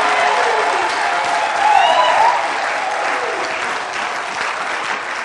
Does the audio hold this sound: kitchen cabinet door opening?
no